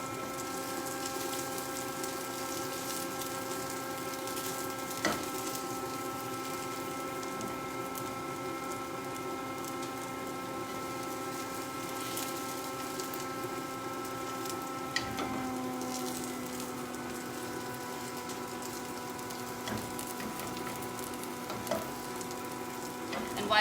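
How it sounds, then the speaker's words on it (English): Vegetable cutlet frying in oil in a pan, a steady close sizzle and crackle with a few small pops and faint scrapes, continuous throughout with no talking. "we can add like another half tablespoon of oil, so that the other side also get crispier."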